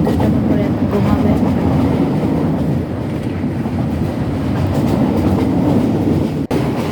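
A moving passenger train heard from on board, with a steady, loud rumble and a rhythmic clickety-clack of wheels running throughout.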